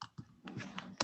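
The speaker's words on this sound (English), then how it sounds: "Just click anywhere and start typing." Keyboard keys tapped in a short, uneven burst of a few close clicks during a computer lesson, crisp and near, with no talking.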